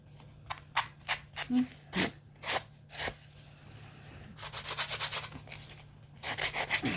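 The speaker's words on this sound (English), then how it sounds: "And then I just sand all the way around like this." Sandpaper rubbed around the edges of an altered book made from a children's airplane book, in short separate scraping strokes followed by a faster run of rapid rubbing strokes, close and moderately loud.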